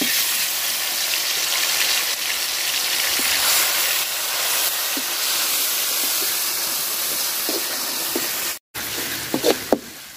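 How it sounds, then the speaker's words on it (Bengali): Onion, chili and garlic fry in oil in a pan for dried fish curry, giving a loud, steady sizzling hiss that runs continuously, then drops out briefly and returns with a few clinks near the end. "পেঁয়াজ আর মরিচ রসুন আমি সুন্দর করে ভাজা নিছি"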